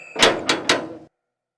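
A wooden door is banged on three times, each heavy thud close and loud, followed by silence.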